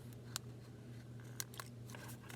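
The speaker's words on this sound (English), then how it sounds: "I'm going to open this flap up and trim that off" Scissors trim a paper flap for a strawberry birthday basket craft, giving a few faint, quick snips spaced apart against a quiet room hum.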